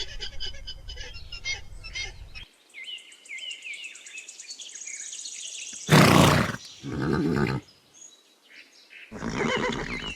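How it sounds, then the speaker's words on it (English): A horse neighs and whinnies, a high wavering call followed by loud, breathy snorting bursts, with chirping in the background at the start. "Horse."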